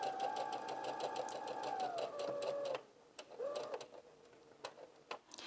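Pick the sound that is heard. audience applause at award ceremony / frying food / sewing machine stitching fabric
sewing machine stitching fabric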